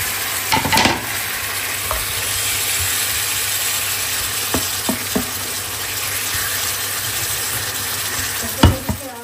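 Fish with spices and tomato sautéing in a pan, an even sizzle with intermittent utensil scrapes and clinks, a louder knock near the end, close and without speech.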